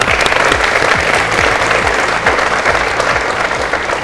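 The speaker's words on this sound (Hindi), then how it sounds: "तालियां।" A television game show studio audience applauds loudly and steadily, dense clapping filling the whole stretch with no pause.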